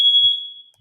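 A smoke alarm gives one loud, piercing electronic beep that holds for most of a second and then fades, with a brief chirp at the very end.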